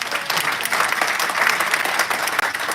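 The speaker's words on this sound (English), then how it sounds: "I hope everyone can give Lindsay a round of applause." Steady, dense applause fills a board of directors meeting as the group honors Lindsay, loud and continuous throughout with no break.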